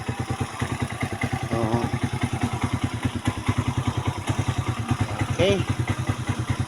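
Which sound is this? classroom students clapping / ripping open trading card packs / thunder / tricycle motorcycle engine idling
tricycle motorcycle engine idling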